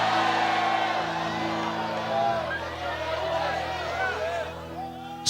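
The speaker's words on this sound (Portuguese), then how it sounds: "Então dê mais um grito de glória para esse lugar tremendo." A church congregation shouts and cries out in praise during an energetic sermon, a loud rolling roar of many voices with whoops over a sustained low musical drone.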